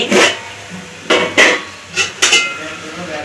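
Metal pot lid lifted off a simmering pot of gravy, giving a few sharp clanks and scrapes spaced out over a few seconds, close and fairly loud.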